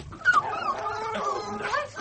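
A dog whimpers and yips in a radio drama, giving a few short high whines and yelps close by, as an isolated sound effect.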